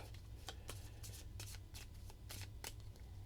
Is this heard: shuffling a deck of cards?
yes